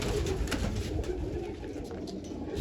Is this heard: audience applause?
no